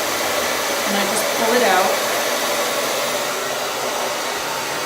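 A hair dryer blows steadily and close up while wispy dark bangs are styled with a round brush, its airflow a constant broadband roar that swells briefly in the middle as someone talks softly over it.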